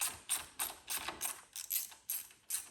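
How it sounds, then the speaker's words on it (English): A hand tool ratchets in quick, regular clicks while a fuel vent line fastener is removed from a 2023 Indian Challenger motorcycle, with about nine close, fairly faint bursts of clicking in under three seconds. "Using a 6mm socket."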